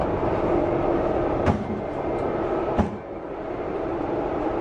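A subway train moving along the track gives a steady, loud rumbling roar throughout, with two sharp metallic clanks standing out; no voices are heard.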